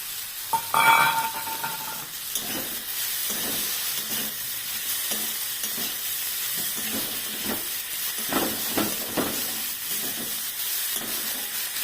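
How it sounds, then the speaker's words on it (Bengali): Dried shrimp fry in hot oil in a pan, a steady hiss of sizzling broken by repeated soft scrapes and knocks of stirring throughout. "ভালো করে ভাজা করে এই ভাজা চিংড়ি মাছটাও দিয়ে দিচ্ছি সঙ্গে।"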